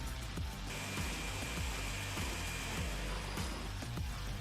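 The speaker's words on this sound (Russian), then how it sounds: "Запускаем блендер и делаем фарш." Carrera 553 immersion blender mincing meat into forcemeat, a steady loud motor whine with rhythmic chopping pulses throughout, no talk.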